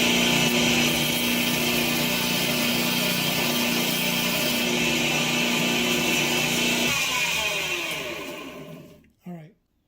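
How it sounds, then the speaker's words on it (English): A power grinder shapes a half stop into a Case XX 6235 1/2 bone-handled folding jack knife, a loud steady whine running for about seven seconds before the pitch shifts, then winding down and cutting off with one brief final burst. "let me just grind that real quick right now"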